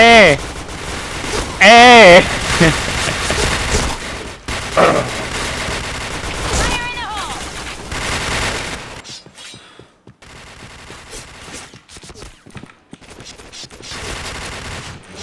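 Rapid volleys of gunfire in a video game shooter, loud and close in the first half and sparser and quieter later, with voices talking over the shots.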